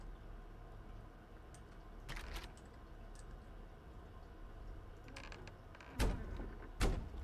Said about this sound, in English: Creaky fridge.